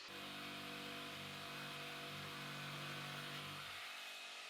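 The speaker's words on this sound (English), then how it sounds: "This notch is easy enough to cut with a jigsaw" A jigsaw cutting a notch in wood buzzes continuously at a steady pitch for about four seconds, then cuts off near the end.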